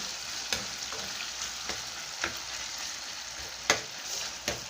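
Tomato frying in a pan while scrambled eggs are being made: an even crackling sizzle at moderate level, broken by several sharp spatula taps and scrapes, no voices.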